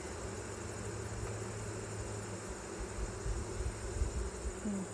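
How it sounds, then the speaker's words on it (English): Honey bees hum steadily in an open hive, a dense, continuous drone heard close up and alone, with slight swells in loudness toward the end. "Sound of the bees."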